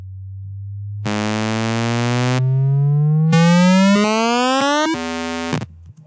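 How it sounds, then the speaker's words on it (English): A Serum synth riser preset sweeps steadily upward in pitch, switching between bright buzzy waveforms and a purer sine-like tone as it climbs, loud and alone, ending in an abrupt drop and cutoff. "we've got ourselves a selection of different waveforms, and they'll all sound different rising."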